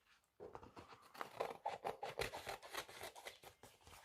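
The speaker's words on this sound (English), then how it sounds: "using the scissors we can trim off the edges so it's neat" Scissors snipping along the edges of a paper collage, a rapid series of close, crisp cuts and rustles in quick irregular rhythm, fairly quiet with no talking.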